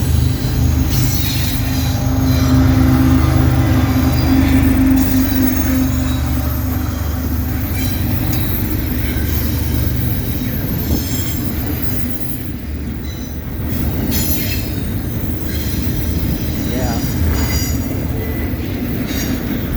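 A CSX intermodal freight train rolls past on a cold December night in Sykesville, with its DPU locomotive passing close by. A loud, continuous rumble of wheels and cars carries high squeals and faint clicking over the rails, and no one speaks.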